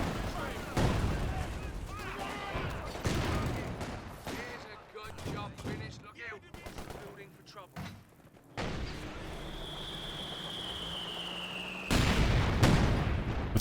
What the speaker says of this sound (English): Look at this super aggressive mortar pit.